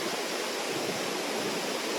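Stream water flows at a cool hillside spot, a steady broadband rush that holds evenly throughout without any voices.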